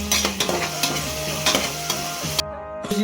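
Mutton sizzles in hot oil while a spoon stirs and scrapes the pan, the frying hiss steady and loud with clinking strokes, then a brief cut near the end.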